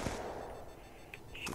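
Gunfire in the video game Black Ops 2 Zombies, Origins map: a few short, fairly faint shots pop out over a steady game background, with bursts clustered toward the end.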